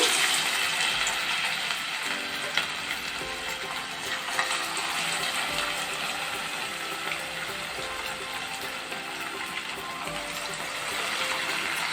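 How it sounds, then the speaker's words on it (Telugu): Fish pieces frying in about a cup of hot oil in a pan on a stove, a steady, close sizzling hiss that continues evenly throughout. "ఇప్పుడు మనం ఫ్రై చేసుకుందాం. ఒక్క ముక్క వేసుకుందాం."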